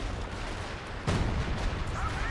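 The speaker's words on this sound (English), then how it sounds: "Major artillery's going to come down on the Vet 4 MG34 as it repositions." An artillery barrage hits in a strategy war game, with a dense rumble of shelling and a sharp blast in the middle over continuous background battle noise.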